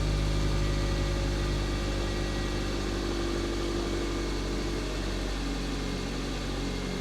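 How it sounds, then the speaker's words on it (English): A Nissan N15 engine idles steadily at close range, a constant low hum and rumble with no change in pace and no voices. "Let's start the car. Engine running."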